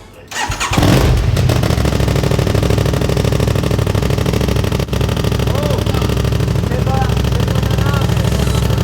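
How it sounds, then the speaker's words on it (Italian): An Aprilia 660 race motorcycle engine cranks and fires up, then settles into a loud, raspy, rattling idle with a harsh, broken-sounding exhaust from a broken carbon exhaust throughout. "Questa è l'accensione prima della gara e ci sembrava che la moto facesse molto più rumore del solito"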